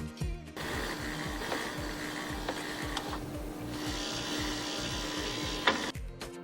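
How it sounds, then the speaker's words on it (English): A refrigerator's pump motor refilling the ice tray with water gives a steady, smooth whirring hum for several seconds, nearby and alone, with a few faint clicks. "And the smooth whirling sound is made by the pump motor refilling the ice tray with water."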